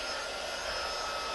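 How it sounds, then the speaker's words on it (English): A heat tool blows hot air steadily at close range while a snow globe Christmas ornament is being made, giving a continuous loud hiss and whir without breaks or speech. "So I've got my heat tool. Sorry for the noise."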